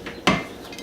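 A lid set down on a pot of simmering caldo de queso in a home kitchen gives one sharp metallic clank, with a faint clink from other cookware before and after it.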